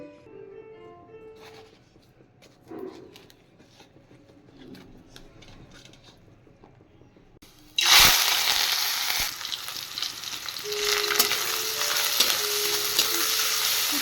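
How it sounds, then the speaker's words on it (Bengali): Small husked shrimp drop into hot oil in an iron kadai and burst into a loud, sustained sizzle after a quieter stretch of faint kitchen clatter, the frying hiss staying steady and close. "তেল গরম হয়ে গেছে এবার আমি দিয়ে দেব কিছু ভুষো চিংড়ি"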